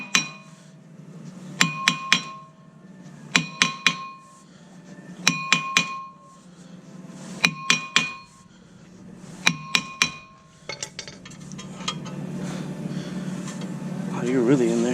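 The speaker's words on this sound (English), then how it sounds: "Now the rotor should come out, but it might be pretty stuck on there, so be a good idea to hammer it out." Hammer blows knock a stuck front brake rotor off a Hyundai Veloster, sharp metallic strikes landing in quick pairs and triplets at close range, separated by short pauses, with a voice talking under the work near the end.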